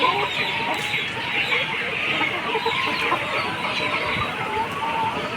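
Layer hens in a cage house cluck steadily, a dense chorus of overlapping clucks and squawks from many birds close by, with no pause and barn noise beneath.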